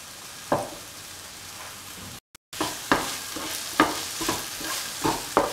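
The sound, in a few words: stirring and sautéing okra rice in a pan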